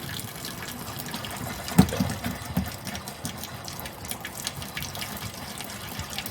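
Water trickling and splashing out of a homemade pottery sink with no running water, a steady close gush with small drips and one sharper splash, alone with no talk.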